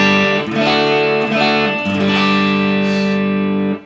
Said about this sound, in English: this is the clean sound, just with here's a spring reverb you can hear